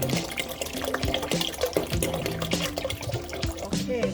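Spring water runs steadily into a cooking pot in a home kitchen before it is boiled for a taro, shrimp and pork soup, a continuous close splashing flow with clinks of the pot.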